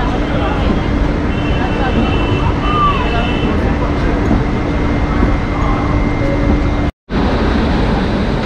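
The Duronto Express pulls in at a station platform with a steady, loud rumble of rolling wagons that fills the whole stretch, briefly cutting out near the end, with faint voices in the background.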